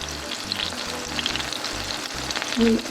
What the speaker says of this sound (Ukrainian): Ось так підсмажується наше м'ясо.